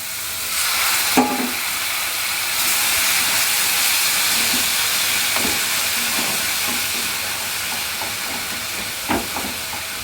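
Hot water poured into a pan of pointed gourd frying for a curd dish, giving a sustained steamy hiss with a few faint clinks of utensils, no talking.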